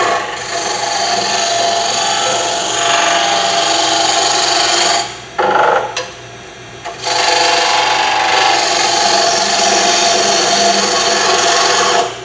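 A wood lathe spins steadily while an oval skew chisel cuts the turning wood, giving a continuous scraping, hissing cut that dips briefly in the middle as the lathe slows under pressure, then resumes close and loud.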